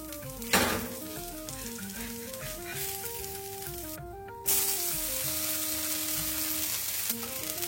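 A ragi dosa sizzles on a hot pan after being flipped, with a loud hiss that flares, eases off, then surges again and holds steady, under a tonal melody in the background.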